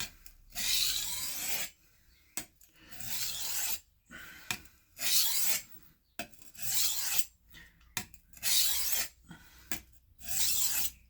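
A steak knife is drawn repeatedly across a sharpening surface, each stroke a close, dry rasping scrape, in a steady rhythm of roughly ten passes separated by short silences.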